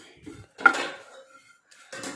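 A metal spoon scrapes and clinks against a pan while roasting coconut and spices for fish curry, in a few short bursts with brief pauses between them.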